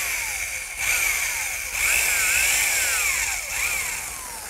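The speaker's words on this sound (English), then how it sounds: "now to drill the hole, I'm just using a 15/16 inch speed bit" A power drill fitted with a 15/16 inch speed bit bores a hole through wood for a garden swing, its motor whining close and loud, the pitch dipping and rising as the bit bites and frees.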